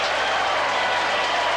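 Crowd at a 1984 Australian football match in Glenelg applauds a goal, a brief burst of loud, dense clapping and cheering.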